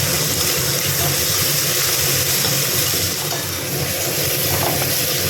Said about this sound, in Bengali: আদা জিরেটা একটু ভাজা ভাজা করে নিচ্ছি।